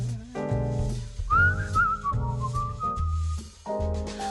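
A jazz quintet plays a little tune, with a light whistled melody gliding above steady bass and chordal accompaniment through a live performance.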